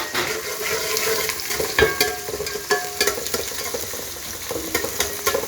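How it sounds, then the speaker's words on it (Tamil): Onions, curry leaves, cinnamon and chillies sautéing in oil, a loud continuous sizzle broken by repeated scraping and clanking of a spoon stirring in the pan. "கருவேப்பிலை போட்டுட்டு அப்புறம் பட்டை மிளகா, வெங்காயம் நான் போட்டு நல்லா எண்ணெயில் வதக்கணும்"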